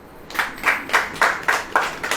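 Congregation at a Christian prayer meeting in Lucknow claps in unison, six sharp, evenly spaced group claps in a steady rhythm, fairly close and alone.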